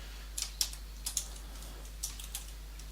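Code being typed on a computer keyboard: a few quick, crisp clicks arrive in small bursts separated by short pauses, close and clear over a low steady hum, with no talking.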